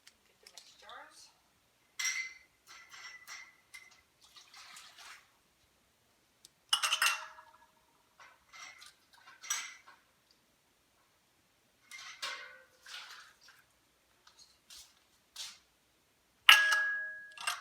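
Glass canning jars with hot lids and screw rims being handled while making peach raspberry jam, giving scattered clinks and knocks of glass and metal in short bursts, with a person speaking at times.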